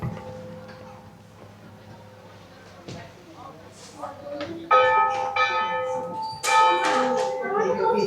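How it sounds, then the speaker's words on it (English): A schoolhouse bell at a one-room schoolhouse rings out in several clanging strokes that grow louder and fuller toward the end, ringing on between strikes, with faint voices underneath, at an outdoor festival. "Somebody's ringing the bell."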